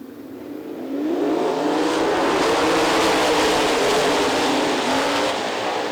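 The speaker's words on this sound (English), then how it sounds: "We're ready to set him loose for heat race number 1." Sprint cars in a heat race at Lee County, a loud engine roar building after a second and holding steady at high revs as the field passes, dominant and continuous.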